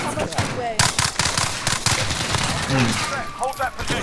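Bursts of rapid gunfire in Call of Duty: Modern Warfare crackle in quick succession, loud and dense, with voices speaking underneath.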